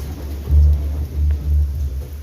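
Deep, low thunder rolls outdoors as rain begins, arriving in three heavy swells that rise and fade over a steady background rumble, with no voices.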